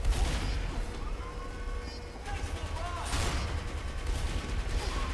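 Bursts of gunfire and explosions rattle through a Team Fortress 2 match, dense and continuous over a loud rumbling background.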